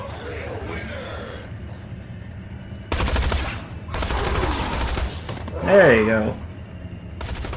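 A machine gun fires in the video game Tales from the Borderlands in loud sustained bursts with short gaps between them, mixed with a voice talking over the gunfire.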